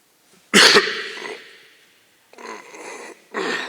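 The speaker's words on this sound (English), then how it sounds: "that was doing a heck of a cough" A loud, harsh cough bursts out, trails off, then two more rougher coughing fits follow after a short pause, close and alone without talk, during a city council meeting.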